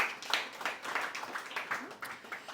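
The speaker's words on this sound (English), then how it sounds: "Round of applause." Audience applause at a hospitality industry panel event in New York, a steady patter of many hands clapping at moderate loudness for a few seconds with no talk over it.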